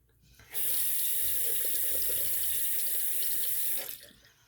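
Water tap running steadily into a sink for about three seconds while a Razorock Game Changer stainless steel safety razor is rinsed, close and clear with no talk.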